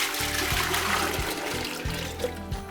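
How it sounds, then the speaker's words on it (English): Sparge water trickles and splashes over mashed grains in a small 4.5-litre all-grain batch of Märzen beer, a steady close pour with a regular low pulsing rhythm and no talk. "Sparging the grains gets all those wonderful fermentable sugars into the wort."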